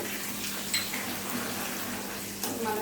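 Spices for temple-style pulihora, including asafoetida, fry in hot oil as a tempering, giving a steady soft sizzle with a few faint clinks over a continuous hiss.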